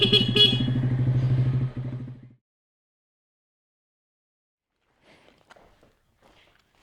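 2020 Honda Grom motorcycle engine rumbling loudly up close for about two seconds, then cutting off, followed by quiet, faint scattered handling noises.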